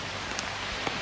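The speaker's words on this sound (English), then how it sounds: "It's still raining." Steady rain falling outdoors among yew trees and vines, a dense continuous hiss with a couple of sharper drops, close and fairly loud.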